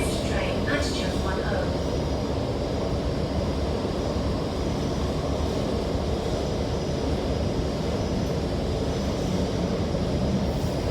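An MTR Tseung Kwan O line K-Train, set A305, runs between North Point and LOHAS Park, giving a steady, loud rumble with continuous broadband noise throughout and no pauses.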